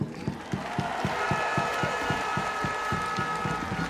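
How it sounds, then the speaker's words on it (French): A large crowd at a rugby celebration in Clermont-Ferrand applauds and cheers for John Gibbs, with rhythmic unison clapping over a sustained roar of voices, loud and full. "Applaudissements pour Monsieur John Gibbs."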